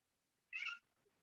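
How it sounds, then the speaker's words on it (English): A house cat gives a single short, thin meow at the door to be let out, close by and alone against a quiet room. "That's a bit of a pathetic meow, isn't it?"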